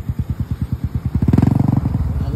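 Near and loud, a motorcycle in Barangay Apopong, General Santos City, chugs with a steady thumping idle, then revs up into a faster, fuller engine roar.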